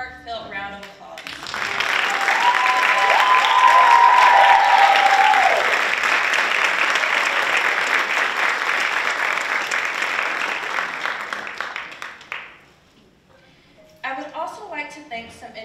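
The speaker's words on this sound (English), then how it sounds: "audience, please give them a heartfelt round of applause." Sustained applause from a large audience at a scholarship pageant swells and carries on for about ten seconds before fading, with a voice speaking briefly at either end.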